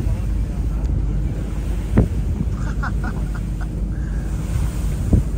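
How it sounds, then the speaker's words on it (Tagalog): Sea wind buffets the microphone on a boat near Capri, Italy, a steady broadband rush with faint water wash beneath, a few brief knocks and scattered faint voices in the distance. "Dito tayo sa karagatan, nasa island ng Capri, province of Napoli, Italy."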